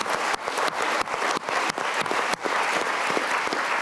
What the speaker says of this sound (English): so a clap to you